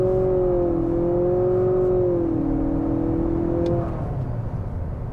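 A 2023 Nissan Altima SR Turbo launches hard with its front tires spinning, giving a loud, sustained engine drone that rises and settles before easing off.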